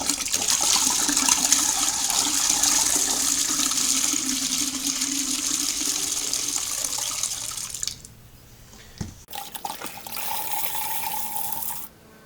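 Water pouring and splashing into a home-brew beer fermenter for a Coopers pale ale extract brew, a steady loud rush for about eight seconds, then a brief pause and a shorter second pour before stopping.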